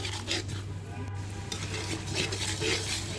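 Spices for khichuri sizzle and fry in a pot on a clay stove in a village kitchen while a spoon stirs them, giving a continuous crackling hiss with soft scraping strokes close up.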